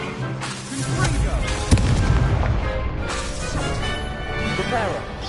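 Fire-blast spell explosion cast during combat in the Hogwarts Legacy video game, a sharp boom at the second mark among continuous layered game music and battle effects, with a voice talking over it.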